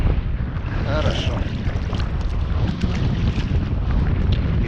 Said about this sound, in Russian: Ветер порывами главное,